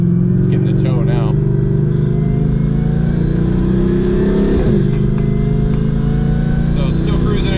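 A supercharged Chevrolet Camaro SS with an LT1 engine and upper and lower pulley upgrades accelerates in tour mode with traction control off, its engine note rising steadily and loudly with a whining pitch climb throughout, while someone talks over it.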